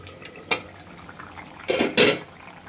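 Metal lid lifted off a cooking pot where fish curry with potato and eggplant is simmering, giving a brief clatter of metal on metal near the end, followed by a second louder clank, close and without talk.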